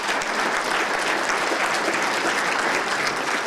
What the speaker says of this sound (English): you owe yourselves a round of applause